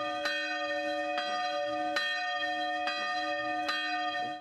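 A cast bronze church bell rings alone, with five evenly spaced strikes whose long, bright overtones keep humming between hits. The sound is loud and steady.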